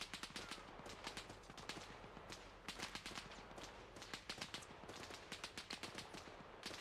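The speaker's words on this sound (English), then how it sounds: "Yeah, that's got to be them shooting." Distant rapid gunfire in the video game Arma Reforger, a steady stream of faint automatic bursts and single cracks rattling on continuously with no voices over it.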